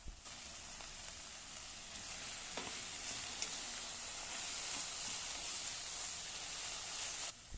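Onions and bell pepper fry in a pan with a steady, even sizzle and hiss. A few faint stirring scrapes and clicks sound under it, and no one speaks.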